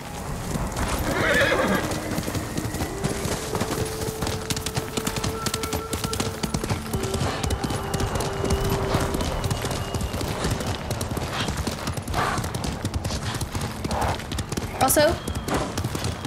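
Horse hooves clip-clopping at a trot with a couple of neighs and whinnies from a white horse named Kaze in Ghost of Tsushima, steady and close, mixed with game ambience and a person talking over it.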